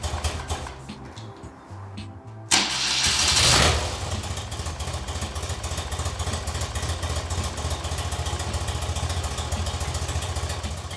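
An old carbureted BMW R65LS motorcycle engine cranks briefly, catches with a burst of revving, then settles into a steady, close idle with an even throbbing pulse that continues to the end.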